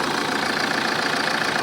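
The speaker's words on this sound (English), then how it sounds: "Good, healthy sounding engine." A car engine idles at a BCA auction, a steady loud mid-pitched drone with faint rhythmic knocking running evenly throughout, close by and with no speech.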